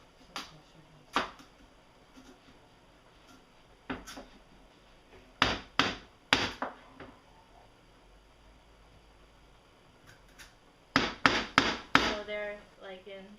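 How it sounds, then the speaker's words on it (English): A knife chops squash into one-inch strips on a cutting board: sharp, isolated chops come at irregular intervals, then a quicker cluster of cuts near the end, close and clear with no talking. "For the squash, all I'm going to do is basically chop them into"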